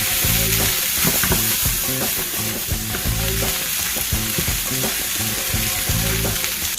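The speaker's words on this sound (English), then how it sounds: "We're also going to throw in our peppers." Sweet Italian peppers sizzling in a frying pan while cooking corn on the cob, a loud, close crackle and hiss with rhythmic stirring scrapes running throughout.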